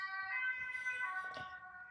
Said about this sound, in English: mind the ambulance.